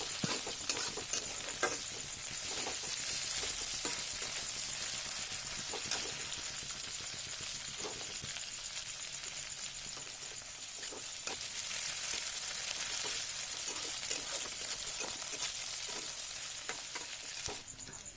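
Spice paste fries with onion and green chili for a chicken curry, sizzling steadily in the pan while a spoon scrapes and stirs it in repeated clicks and scuffs.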